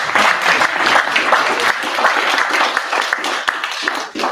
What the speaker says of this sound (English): So I think actually we should all give Herbert, Chang, Gary a big round of applause for all the work.